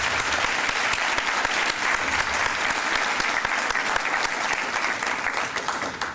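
An audience claps at a protocol and leadership talk, a dense, steady round of applause that stays loud throughout.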